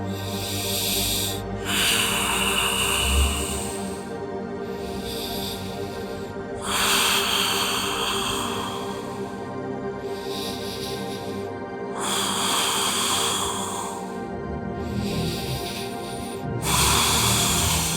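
Slow, deep breaths during a held yoga pose, each long airy inhale and exhale recurring roughly every few seconds over a soft steady background of music, with no talking.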